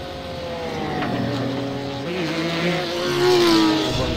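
Ford and Porsche race cars lapping in iRacing, engines droning in close company with pitch sliding up and down as they work through corners, one engine growing louder and higher near the end.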